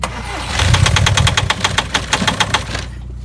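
A TDI diesel engine cold-starts at -35°, cranking and catching, then running with a rough, rhythmic knocking clatter, loud and close, before cutting off.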